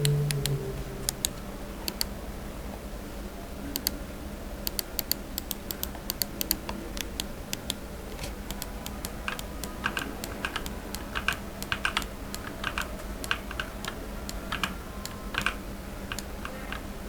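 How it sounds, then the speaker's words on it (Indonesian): A Cougar Combat gaming mouse being clicked, dozens of sharp, close clicks in irregular bursts, some rapid, over faint background hiss. "Dan ini untuk sound test dari mouse-nya itu sendiri."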